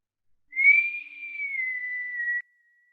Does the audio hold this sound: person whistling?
yes